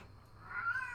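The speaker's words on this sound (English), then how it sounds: "And then Maple started meowing." A cat gives a faint, brief meow in a quiet room, rising slightly and held for under half a second.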